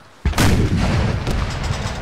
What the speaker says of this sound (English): Use the cannon, boy.